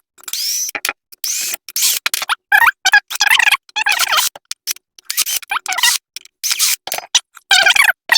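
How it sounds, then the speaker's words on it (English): Small screws being backed out of a Ryobi PSBCS02B brushless cut-off tool during a teardown, heard as close, rapid scratchy clicks and ratcheting bursts separated by short silences. "I'm just going to start removing all these screws."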